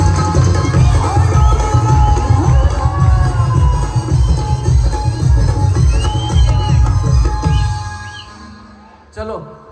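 A festival crowd at a palkhi procession with a band claps and cheers loudly and steadily, voices and shouts mixed in, fading toward the end before a brief final burst.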